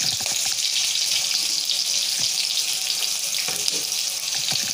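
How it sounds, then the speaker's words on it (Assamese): Chopped onions hitting hot oil in a kitchen pan give a steady, loud hiss and sizzle that holds evenly throughout, with no voices. "তেলখিনি গৰম হৈছে সেইবাবে মই এতিয়া ইয়াত কাটি থোৱা পিঁয়াজখিনি দি দিম"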